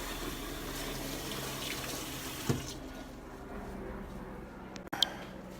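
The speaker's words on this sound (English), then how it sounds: "once it's full of water, we let it set." Water runs steadily from a tap into a container, a constant rushing that changes tone partway through, with a couple of brief clunks.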